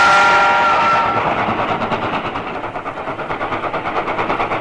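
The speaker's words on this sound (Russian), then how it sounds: "По временным рельсам паровоз доедет до ближайшего сквера." A Soviet L-series steam locomotive rolls along temporary rails, its loud, steady clatter settling into an even rhythmic beat with no voices.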